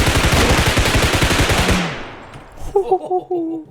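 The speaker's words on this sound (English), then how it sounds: "The guns are loud as hell and they hit hard as hell, even through walls." Rapid automatic gunfire in the first-person shooter game Bodycam, a loud dense burst for nearly two seconds that cuts off, followed by a few fainter tonal game sounds.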